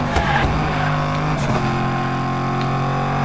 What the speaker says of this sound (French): Oh le turbo.